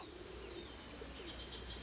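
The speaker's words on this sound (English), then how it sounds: "Look at these birds." Pigeons or doves coo softly at a distance in the open air, a brief low murmuring call heard beneath a constant background hiss.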